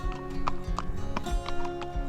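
A black horse's hooves clop in a steady walking rhythm on hard ground during a ride in Georgia, about three steps per second, moderately close with a faint background hum.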